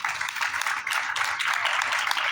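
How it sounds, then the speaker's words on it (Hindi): Clapping from an audience at a memorial-day yajna and lecture in Kurad village, Panipat, a short, even burst of applause with no talk over it. "तालियां बजाएंगे"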